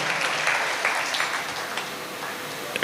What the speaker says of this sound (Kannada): ಒಮ್ಮೆ ಜೋರಾದ ಚಪ್ಪಾಳೆ ಮೂಲಕ